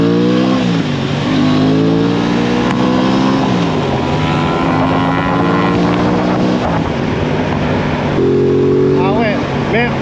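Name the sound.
BMW GS1300 motorcycle riding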